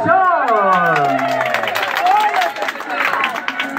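Guests applaud at a quinceañera party, a steady wash of clapping and crowd noise with music and voices mixed in throughout.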